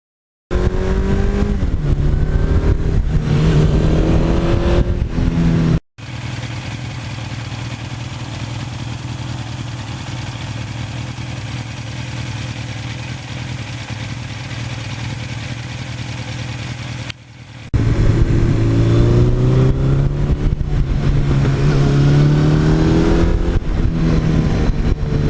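A 1982 Suzuki GS1100E motorcycle engine running close by, alternating between loud revving passages and a steady, lower idle in the middle, with a brief cutout at each transition.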